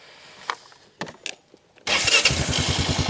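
A Honda Foreman 450ES ATV engine cranks and catches after a few faint clicks and bumps, then settles into a loud, steady, close idle with a rapid low chugging pulse and no talk.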